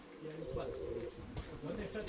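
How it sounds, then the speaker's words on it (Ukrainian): Pigeon cooing near a keeper's loft, soft repeated low coos under a quiet background, fairly close and faint, with voices talking over it. "Да, це нерябий голуб такий"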